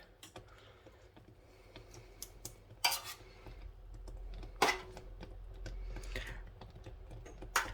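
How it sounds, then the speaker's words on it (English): A spoon dabs dye onto wool roving during hand dyeing, making light irregular taps and clinks close by, with a few sharper knocks against the container over a quiet background. "I can use the spoon to dab"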